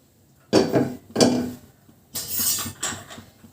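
A wok is set down on a gas stove while fritters for a leafy green pakora recipe are being made, giving four short, close metallic clanks and thuds spaced about a second apart, with no talking.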